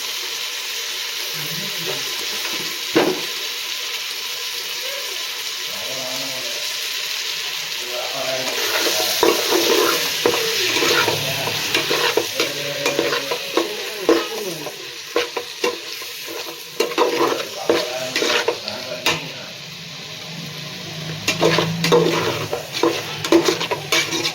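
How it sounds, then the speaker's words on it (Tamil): Onion, tomato and mint sautéing in a pan for paneer pulao: steady sizzle with frequent metal spoon scrapes and stirring clatter, growing busier midway, close and fairly loud with no talk. "இதுலேயே புதினா சேர்த்து நல்லா வதங்க விடலாம்."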